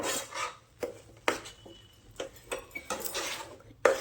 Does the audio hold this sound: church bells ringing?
no